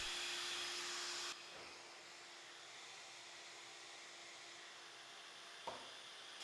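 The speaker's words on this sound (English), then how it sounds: "Turned on the dust collection and here we go." A workshop dust collector drones steadily while a pocket hole jig is in use, starting louder with a broadband roar for the first second and a half, then settling into a softer continuous hum with one brief knock near the end.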